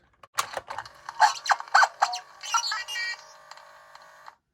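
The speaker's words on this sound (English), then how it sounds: "So we have R2-D2. Let's see if that works." A Kenner Star Wars R2-D2 toy gives off a quick run of electronic chirps, beeps and warbling trills, rising in a bright burst before ending in a sustained bleep.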